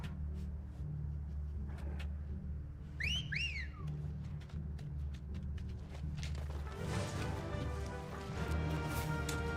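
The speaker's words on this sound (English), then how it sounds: "Some slightly awkward chocobo whistle, though." A chocobo whistle in Final Fantasy XVI, two quick rising-and-falling whistled notes, moderately clear over a low rumbling game ambience, followed by busier clattering activity.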